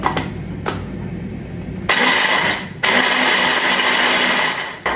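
A blender grinds pistachios and walnuts for baklava in two loud, close bursts of whirring motor noise, separated by short pauses with a few clicks and knocks.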